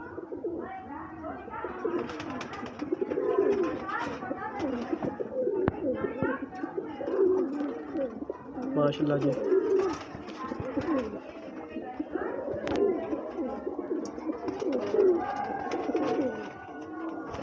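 Golden pigeons kept by a breeder in Islamabad, Pakistan, coo in soft, rolling repeated phrases close by, mixed with wing flutters and scuffling, while someone talks over them.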